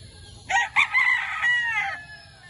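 A fighting rooster on a gamefowl farm crows once, close and loud, a clear multi-part call lasting over a second against a quiet background.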